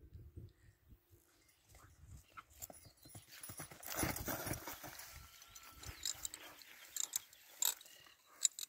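A criollo horse walking calmly outdoors, hooves clip-clopping in a slow uneven rhythm at close range, with faint rustling and a few sharper knocks toward the end.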